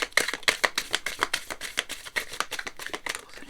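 Tarot cards being shuffled by hand in a quiet room, a series of crisp riffling flutters and soft slaps coming in quick uneven bursts, close and fairly soft.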